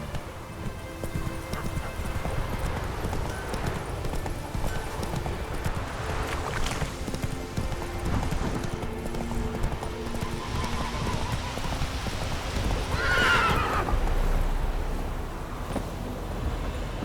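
Roach, Geralt's horse in The Witcher 3, gallops with a steady, close clip-clop of hooves throughout, and a short neigh rings out near the end over ambient game sound.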